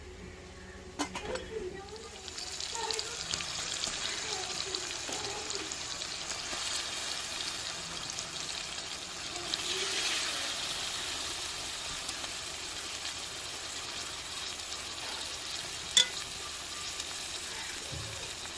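Pieces of tuna head frying in a pan with onion, tomato and ginger paste, giving a steady sizzle with occasional utensil clinks and stirring under faint background sounds.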